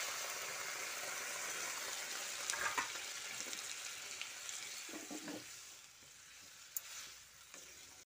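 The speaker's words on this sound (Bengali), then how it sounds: "এবার যে এঁচোড় সেদ্ধর জলটা ছিল সেটা এর মধ্যে দিয়ে দিচ্ছি" Jackfruit and potato sizzle steadily in a pan as the water used to boil the jackfruit is poured in, setting off a brief burst of hissing and bubbling midway before the frying settles back to a softer, even crackle.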